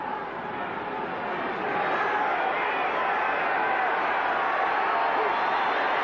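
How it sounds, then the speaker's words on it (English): A football stadium crowd at a 1982 NFL game between the St. Louis Cardinals and Atlanta Falcons, heard as a continuous dense roar that swells slightly louder about two seconds in and stays high. "Crowd really warming to the occasion now."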